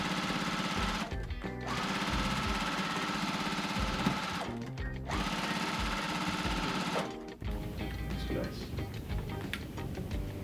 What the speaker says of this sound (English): Final seam here to finish off this quilt block